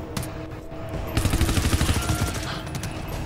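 Turret gunfire in the GTFO video game, a loud rapid automatic burst of evenly spaced shots, preceded and followed by scattered weapon fire and game noise.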